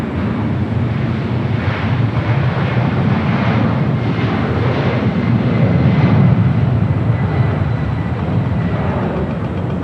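A Volaris Airbus A320 arriving on runway 25 left at Los Angeles International Airport, heard as a loud, continuous broadband jet roar that holds steady and swells slightly midway, with no voices over it.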